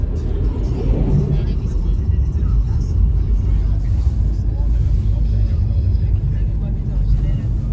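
A car drives through a blizzard on a road beside a frozen lake in near-zero visibility, with steady loud low rumble of engine and road noise throughout and people talking over it.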